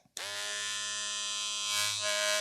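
An old model electric hair trimmer switched on and buzzing steadily, a close, even motor hum with strong harmonics that holds for about two seconds, slightly shifting pitch near the end.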